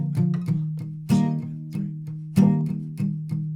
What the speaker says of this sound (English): So with palm muting, the first chord progression would sound like this